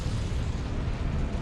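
Confringo blasting spell erupting in Hogwarts Legacy, a steady low rumbling roar filling the whole moment, loud and dense with no distinct separate blasts.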